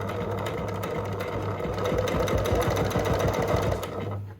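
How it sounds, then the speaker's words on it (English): A sewing machine runs steadily at a quarter-inch seam, stitching bias binding through several layers of a jacket, a close, rapid mechanical chatter that rises slightly in the middle and then slows to a stop. "slide it back under our sewing machine at the 1/4 inch, and we're just gonna keep on sewing"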